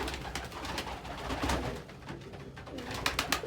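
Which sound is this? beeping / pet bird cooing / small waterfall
pet bird cooing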